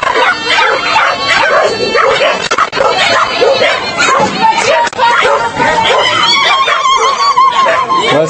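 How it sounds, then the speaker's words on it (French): A dog barks and yips repeatedly at an outdoor paragliding event, its sharp calls recurring throughout amid a constant loud background and nearby talk. "Il y a un chien."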